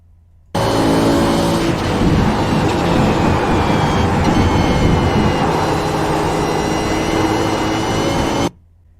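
A V8 Supercar engine roars steadily at Phillip Island in the iRacing sim, loud and sustained for about eight seconds with a rising and shifting pitch, then cuts off abruptly.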